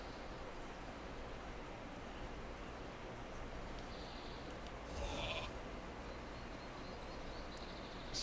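Sheep bleating in a fantasy video game, a single faint bleat rising briefly over a steady bed of game ambience and background noise.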